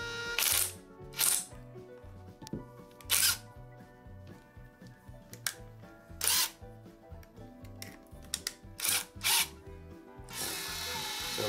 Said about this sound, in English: So basically that's just going to spin the armature for me.